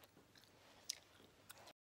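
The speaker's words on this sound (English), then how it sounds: "Yes, I apologise for the chewing." Close chewing of food with soft, wet mouth clicks and small crunches, quiet and steady over a faint room background, with no voice.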